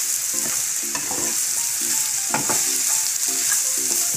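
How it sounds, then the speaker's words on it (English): Garlic mushrooms sizzle steadily in a pan with pepper while a spoon stirs them, giving a constant close hiss with repeated scraping clicks and taps against the pan. "Add the pepper and stir it for a minute"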